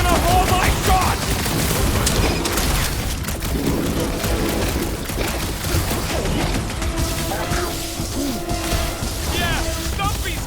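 Gunshots hammer at a Glarnot creature in Guardians of the Galaxy, a dense, loud barrage of blasts, impacts and crashing effects mixed with game sounds, while voices talk over the action.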